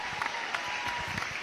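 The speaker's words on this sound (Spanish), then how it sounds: "La recibimos con un fuerte aplauso" Audience applause at a talk on the IPCC report and vegan diets, steady close clapping filling the whole moment.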